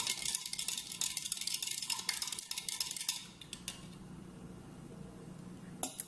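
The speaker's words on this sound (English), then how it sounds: "And then stir the sugar in until it dissolves." A spoon stirring sugar into grapefruit lemonade, with quick, close clinks and scrapes against the glass for about three seconds before the sound fades to a faint rattle and one last tap.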